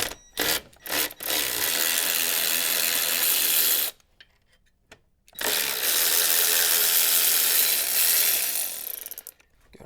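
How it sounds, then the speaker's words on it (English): A ratchet clicks rapidly while unbolting the intercooler in the engine bay of a 2023 Subaru WRX, close and loud in two long runs split by a short pause, with brief bursts at the start. "All we'll need to do is just unbolt the intercooler either side"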